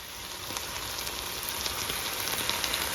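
Steady crackling sizzle of vegetables frying in a hot pan for pepper steak, a dense hiss with small pops throughout.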